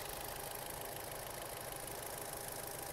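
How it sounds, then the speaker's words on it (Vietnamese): A 2010 Daewoo Lacetti SE with a 1.6 engine idles smoothly, giving an even, steady hum with light ticking. The sound is close and constant throughout, with no voices. "Máy chạy khá êm đúng không ạ?"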